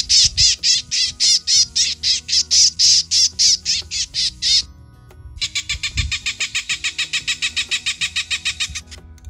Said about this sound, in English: that is Raptor Calls. These simulate the kind of raptors that the birds are most afraid of